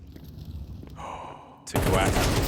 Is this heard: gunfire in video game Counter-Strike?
yes